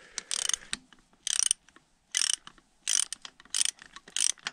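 A ratchet wrench loosening the timing belt tensioner pulley nut on a moped engine, giving rapid clicking bursts in about six separate strokes with short pauses between them, close and clear, with no talk.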